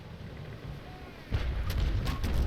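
Ship cannon fire in the Naval Action video game, a Basic Cutter facing a Rattlesnake at sea: a low, wind-like rumble, then a heavy boom about halfway through with sharp bursts trailing after it.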